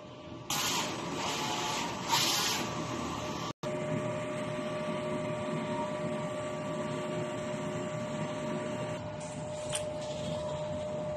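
An inkjet printer with an ink tank system runs a nozzle test after head cleaning, a steady mechanical whir and hum with brief rattling carriage movements and a short pause, close and moderately loud.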